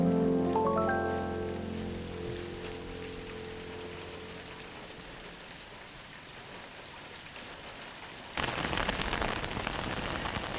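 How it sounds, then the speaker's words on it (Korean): Heavy, steady downpour of long, pouring rain that began before dawn, falling at a Korean couples' camp. The sound is a broad, continuous hiss under fading musical tones at first, then swells suddenly louder near the end. "새벽부터 내리기 시작한 장대비는 좀처럼 그칠 기미가 보이지 않습니다"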